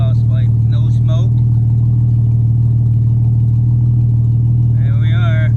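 A mechanically refreshed 1960 Jaguar MK9 saloon idles smoothly and steadily, heard close at the rear exhaust pipe as a loud, even low rumble, with brief speech over it at the start and end.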